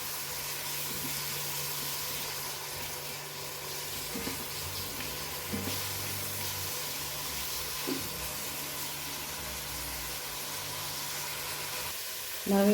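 Sausages and other ingredients for a Goan cocktail sausage pulao fry in a pan, giving a low, even sizzle that runs the whole time with a few faint knocks and a louder clatter at the very end.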